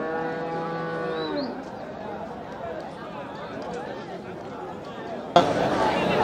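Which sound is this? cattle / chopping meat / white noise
cattle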